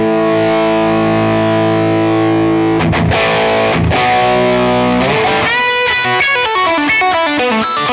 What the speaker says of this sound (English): pushing your guitar into a valve amplifier type distortion